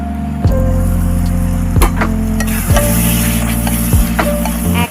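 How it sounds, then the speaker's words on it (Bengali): Spiced bottle gourd greens for a vegetarian Bengali chorchori sizzle steadily in a pan as water is added little by little, with a continuous loud frying hiss and periodic scraping clatter from stirring, close up and without talk. "এখন এটাকে অল্প অল্প করে জল দিয়ে ভালো করে কষিয়ে নিচ্ছি।"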